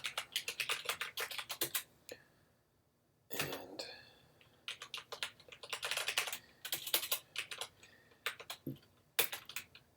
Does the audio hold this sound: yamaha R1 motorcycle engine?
no